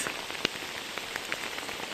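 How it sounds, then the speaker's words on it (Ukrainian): Heavy rain pouring at the edge of a forest in the Carpathian mountains, a dense continuous patter of drops striking leaves and surfaces up close, with scattered sharper individual splats and no speech. "І ось такий дощ рубає."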